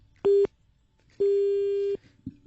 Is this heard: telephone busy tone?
yes